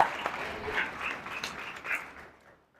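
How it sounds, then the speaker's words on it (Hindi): Congregation applauding for Jesus during a Hindi/Urdu church service, a fairly quiet wash of clapping that swells in a few bursts and then fades away to silence. "यीशु के जलाल के लिए जोरदार तालियां बजाएं।"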